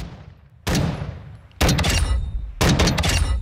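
Three loud, heavy gunshots from a Knights SR-25 marksman rifle in Call of Duty Modern Warfare II, spaced about a second apart, each a sharp crack with a booming tail that runs into the next.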